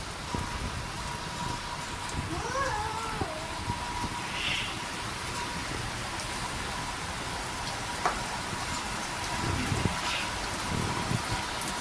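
Heavy rain pours steadily outside a home, a soft continuous hiss of drops on surfaces with a few faint knocks and distant sounds mixed in.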